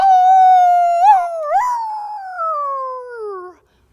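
A human voice imitates a coyote, giving one long, loud howl that wavers and breaks in the middle, then glides downward and stops cleanly.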